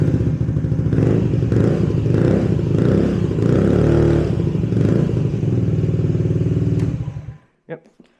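A Honda Ruckus scooter fitted with a cheap aftermarket exhaust idles and revs close by, a loud, steady chugging engine note that cuts off abruptly, followed by a couple of brief knocks.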